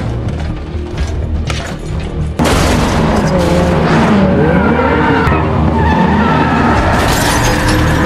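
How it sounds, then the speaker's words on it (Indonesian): A car skids and roars through a film chase scene with tires squealing, loud and continuous after a sudden jump in intensity partway through, with a crash-like boom mixed in. "Finn menyuruh Thomas untuk tetap mengemudi sementara dia memburu anak buah Rob yang mengejar mobilnya."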